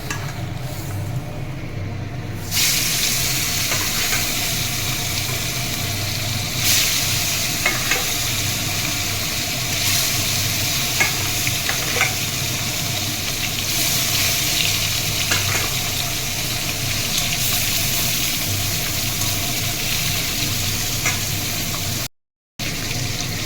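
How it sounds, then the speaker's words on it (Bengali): Koi fish frying in hot oil in a wok: a loud, continuous close sizzle that swells as pieces go in, with faint clinks, running steadily for over twenty seconds before a brief cut. "কড়াইতে তেল গরম হয়ে গেছে, এবার এক এক করে মাছগুলো দিয়ে দেবো।"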